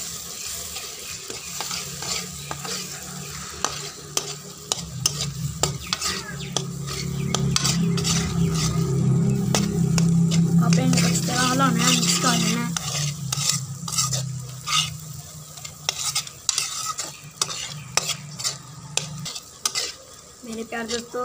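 Eggs and onions stirred as they fry in a pan, a steady sizzle with repeated scraping and clinks of a utensil against the pan, louder in the middle stretch, no talking.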